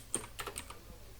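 Quick bursts of keystrokes on a computer keyboard, a few soft close clicks grouped together with short pauses and no talk.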